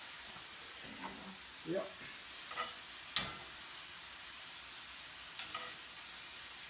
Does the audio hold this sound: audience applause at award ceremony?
no